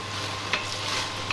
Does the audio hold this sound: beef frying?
yes